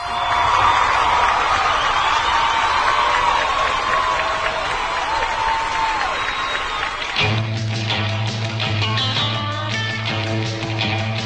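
A crowd claps and cheers for Duilio's 80th birthday, loud and sustained, with voices mixed in; partway through, a tonal, music-like layer rises beneath the clapping.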